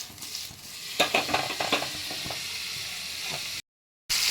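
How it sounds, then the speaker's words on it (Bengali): Chopped capsicum sautés in a pan with a bright continuous sizzle and a burst of quick stirring clatters near the middle, close by, then a brief silent cut before the frying resumes, no speech. "ক্যাপসিকামটা একটু সতে করে নিচ্ছি আমি।"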